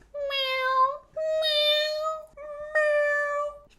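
A voice imitates a cat, giving three long, drawn-out meows one after another, loud and close, with short pauses between.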